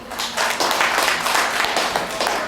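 An audience at a live talk show claps and applauds in a lounge, a dense, loud wash of many hands that holds steady for a couple of seconds.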